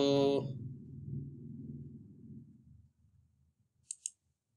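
Two quick computer mouse clicks, close and crisp, on a YouTube channel dashboard, following a stretch of fading talk.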